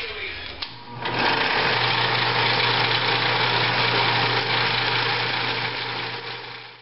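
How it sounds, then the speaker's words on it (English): A small Dremel rotary sander smoothing a knife blade whirs steadily at high speed after a brief start-up, a loud continuous buzzing grind that holds for several seconds before easing off. "I've got this little round sander thing, this small. It was from a Dremel"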